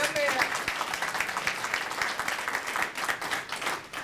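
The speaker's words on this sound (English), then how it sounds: "Give the mayor a round of applause." An audience claps for the mayor at a public service award event, a steady burst of applause with some voices mixed in, lasting the full few seconds without a clear ending.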